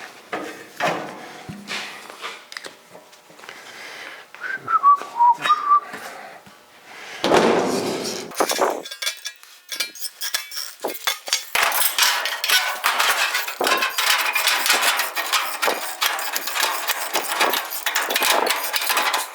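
An old pair of hand snips cuts sheet metal for a handmade door on a 1956 Chrysler Windsor, giving rough, crunchy metallic rasps that run steadily through the second half, loud and close, after some scattered knocks and clatter.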